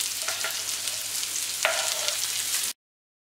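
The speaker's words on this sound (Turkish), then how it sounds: "Küçük bir parça tereyağı ekleyip eritelim. Hemen sebzelerimizi ekleyip kavrulmalarını sağlayalım öncelikle." Mushrooms and peppers sauté in melted butter in a pan, giving a steady, close sizzle with a brief stir partway through, then the sound cuts out abruptly.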